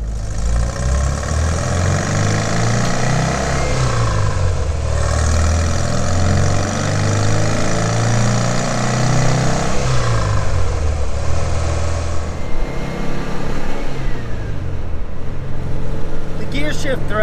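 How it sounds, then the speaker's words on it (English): A Porsche 356 or VW Beetle engine drones steadily, its pitch dropping and then rising sharply as revs climb during double-clutched downshifts, with brief blips between shifts. "You can hear that as I double clutch slowly the downshift"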